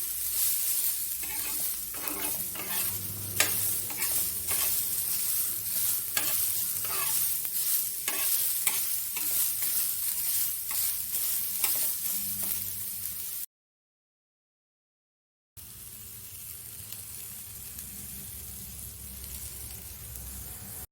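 Beetroot chutney ingredients sautéing in a pan, a continuous bright sizzle with repeated spoon scrapes and stirring strokes, close by, briefly cut to silence before the frying resumes.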